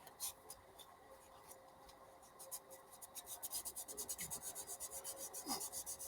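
Very light, almost pressureless hand sanding with 1000-grit sandpaper on a beginner build, heard as soft, quiet rhythmic rubbing strokes that grow steadier and more regular toward the end.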